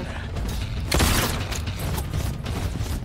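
A Torpedo special move fires off in a Mortal Kombat 1 grand finals match: a dense mechanical rush with a loud burst around the middle, layered over busy game noise and crowd sound.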